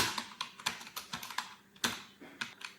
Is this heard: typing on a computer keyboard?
yes